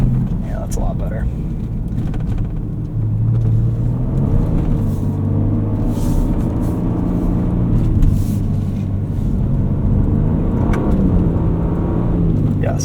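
A 2024 Ford Ranger Raptor on mud-terrain Firestone Destination M/T tires drives through snow in 4 Auto, its engine giving a steady low rumble and road noise throughout, with rising and falling tones as it accelerates.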